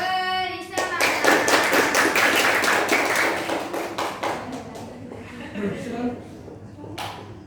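A group at an Islamic Quran quiz competition claps a quick, rhythmic cheer in sharp unison beats, loud and close, fading into a few looser claps with voices mixed in.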